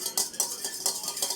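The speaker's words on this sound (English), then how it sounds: "I'm going to stir it." Whisk or fork clacking rhythmically against a bowl while beating cracked eggs with milk for an English breakfast, about five quick strokes in a steady beat, close and clear with no talking.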